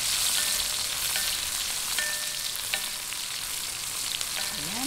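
Chopped onions fry in a hot pan for gising-gising, a steady close sizzle with a few faint utensil clinks scattered through it and no talking.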